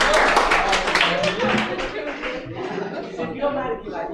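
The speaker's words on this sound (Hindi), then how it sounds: "अरे ताली बजाओ एक बार।" A school class claps hands in quick, uneven bursts while voices talk and call out in Hindi over the clapping, which fades somewhat toward the end.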